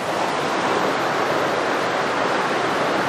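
A stretch of river below a bridge near a cave at Hedley flows past, a steady, close rushing wash of water with no pauses and no speech.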